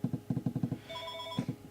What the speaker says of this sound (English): Sorry for that phone ringing.